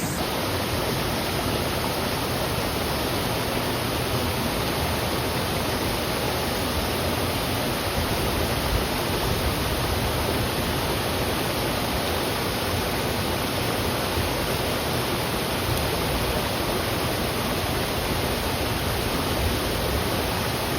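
Mae Yen Waterfall pours in a loud, steady roar of rushing water, a dense continuous wash heard close with no voices.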